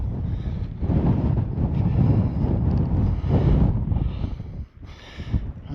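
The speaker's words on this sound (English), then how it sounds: "Wind drops as soon as you get into a little bit of a gully." Strong wind buffets the microphone on an exposed hillside near the Wain Stones, a steady, loud roar that gusts and then briefly drops before rising again.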